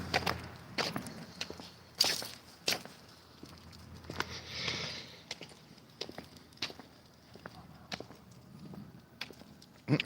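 Footsteps of a person walking a dog in a backyard on an afternoon walk, a series of irregular close taps and crunches with quiet gaps between them, no talking.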